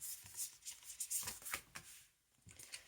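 Tarot cards are shuffled nearby in short riffling bursts that come in quick soft flurries, followed by a quieter pause, with no talk.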